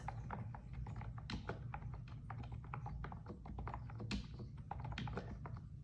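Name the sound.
typing on a computer keyboard connected to an iMac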